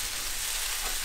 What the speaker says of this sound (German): das Ganze ist jetzt hier angebraten